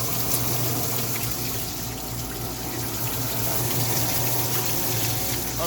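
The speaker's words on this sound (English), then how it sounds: "That's shooting quite a bit of water quite a distance away." Kenmore dishwasher running with its door open, the pump spraying water from the wash arm in a continuous hissing gush over a low motor hum, close by and steady.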